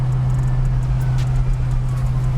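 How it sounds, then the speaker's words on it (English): A built 302 V8 in a 1966 Ford Mustang rumbles steadily at low speed over bumps, its deep exhaust drone constant and close with faint rattles and knocks on top. "We're about to go over some bumps right now."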